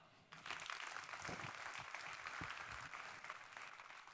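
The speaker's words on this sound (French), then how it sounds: "On peut l'applaudir." A live audience breaks into applause for a volunteer from the crowd, the clapping starting abruptly after a brief quiet moment and continuing as a steady, dense wash throughout.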